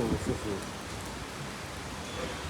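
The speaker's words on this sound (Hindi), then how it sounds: "लो भाई, बारिश आ गई।" Steady rain patters down as a soft, even hiss, with a few brief louder rustles near the start.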